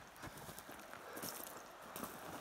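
Pack horses walk a narrow, freshly benched wilderness trail, their hooves giving a steady, soft clip-clop under a constant wash of outdoor noise.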